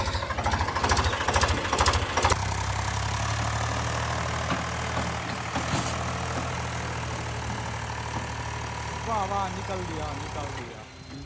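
A tractor engine idles with a steady low rumble and knock, running continuously for the whole stretch with faint voices over it.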